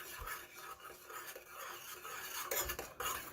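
A spoon stirs cocoa powder and sugar together in a cup or pot for homemade hot chocolate, making a steady run of soft scraping and clinking strokes close by with no one talking.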